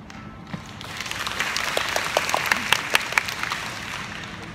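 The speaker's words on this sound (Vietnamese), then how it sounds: "Xin một tràng pháo tay thật lớn để ghi lại hình ảnh này." Audience applause at a commemoration ceremony marking a professor's 99th birth anniversary, a steady roomful of clapping with distinct sharp claps standing out, building after a faint start and holding for several seconds.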